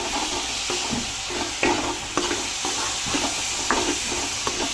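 A spoon stirs a hot mixture with ghee and cardamom powder in a pan, a steady sizzling hiss punctuated by repeated scraping strokes and light clinks, close and without voices.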